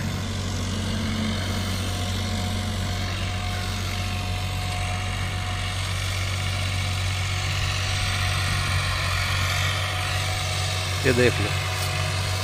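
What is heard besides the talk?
old tractor engine running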